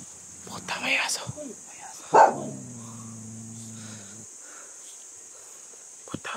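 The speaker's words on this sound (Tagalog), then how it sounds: "Puta, may aso." A dog barks sharply once at night, a brief loud burst over a steady high chirping of insects, with hushed voices nearby.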